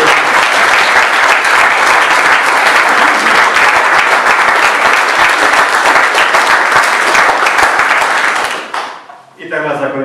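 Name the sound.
audience applause at a concert of Passion songs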